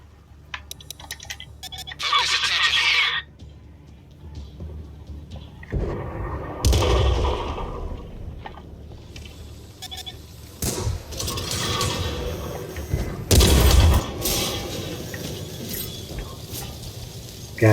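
Artillery and gunfire in the World of Tanks video game, with an M7 Priest and Sexton I in battle: heavy booming blasts and sharp shots burst out at intervals over a rumbling, noisy background, loud and close.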